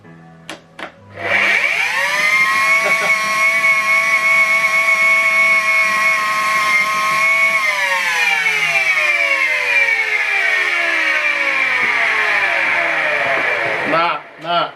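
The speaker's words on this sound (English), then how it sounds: "this one is Miele complete C3 power line" A Miele Complete C3 Power Line canister vacuum cleaner starts up and runs with a loud, steady whine that drifts gradually lower over several seconds before cutting off near the end.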